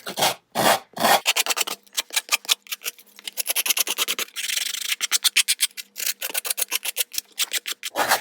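A sandpaper-like tool rubs over a handmade holiday card keeper craft in fast, even back-and-forth strokes, close and crisp, with a few brief pauses between bursts.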